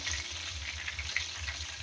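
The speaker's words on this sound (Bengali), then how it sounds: "এগুলো একবার উল্টে আর একবার ভেজে নিচ্ছি বাকি কাবাবগুলো আমার ভাজা প্রায় কমপ্লিট" Chicken jali kebabs fry in a pan of oil, making a steady, soft sizzle with faint crackles and no voices.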